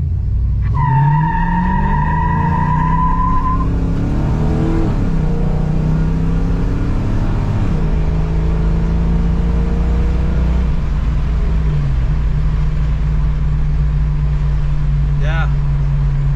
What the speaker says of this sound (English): it's a good running car